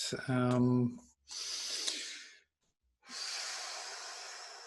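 Slow, relaxed breaths during a guided meditation, soft and close, with a brief voiced sound at the start and a silent pause between two long airy exhalations.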